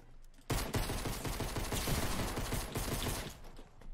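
Rapid bursts of automatic gunfire in the video game Fortnite start abruptly and keep going in a dense, loud, rattling stream with steady rhythm until the end.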